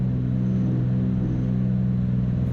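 A Stearman biplane's radial engine drones at climb power, a loud steady low rumble heard from inside the cockpit without a break.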